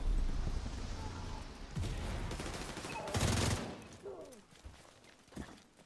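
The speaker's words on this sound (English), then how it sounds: "LMG guy just keeps suppressing everything." Quiet bursts of light machine gun suppressing fire in The Division 2, rattling on and off in the background with scattered sharper shots and faint game noise.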